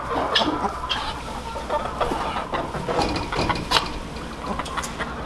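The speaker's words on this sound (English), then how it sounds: "The chickens that you hear clucking over there" Farmyard chickens cluck and chatter together at fairly close range, a steady busy mix of short clucks and squawks over a constant noisy background, with no one talking.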